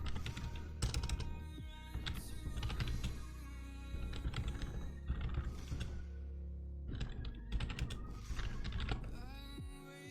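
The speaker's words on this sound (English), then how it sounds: "So let's type that in here." Rapid clicking of computer keyboard keys in irregular bursts, close and fairly quiet, with a brief pause partway through before the typing resumes.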